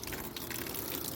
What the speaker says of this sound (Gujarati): આ જે પાણી આવે છે